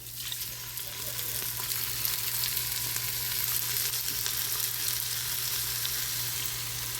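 About a cup of oil poured into a frying pan over translucent onions for a yam stew crackles and sizzles steadily, a continuous bright frying hiss under a low hum.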